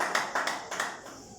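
A church congregation claps for Jesus, a few quick rounds of hand claps at moderate distance that fade out.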